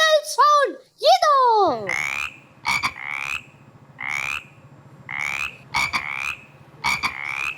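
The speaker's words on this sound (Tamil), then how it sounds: "மழையில யார் இந்த சவுண்ட் பண்ணுவா? தவளை." A frog croaking in the rain: a series of repeated, rasping croaks at a steady rhythm, close and clear, with a voice briefly at the start.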